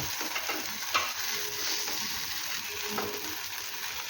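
A wheat flour dhirde pancake roasting on a hot pan gives a steady, even sizzle throughout, close and moderately loud, with a couple of soft scrapes of a spatula and no talking.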